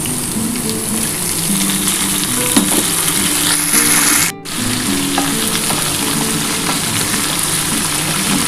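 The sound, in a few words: frying bottle gourd with potatoes in a pan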